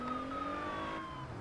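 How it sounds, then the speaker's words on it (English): A wailing electronic police car siren in the racing video game Test Drive Unlimited Platinum, steady and fairly loud, over a low engine hum. "Hello, police car."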